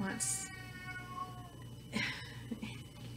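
A domestic cat wanting to go outside meows repeatedly indoors, with several drawn-out, plaintive cries at moderate volume under steady background hum and soft room noise.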